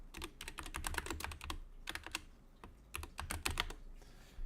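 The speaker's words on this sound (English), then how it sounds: "I gotta type all this in now." Fast typing on a computer keyboard, close and clear, with dense bursts of key clicks broken by short pauses.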